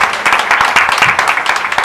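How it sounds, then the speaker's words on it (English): A crowd at a women's run event claps for the ambassadors, a dense, loud burst of applause with rapid overlapping hand claps throughout. "the ambassadors, big round of applause,"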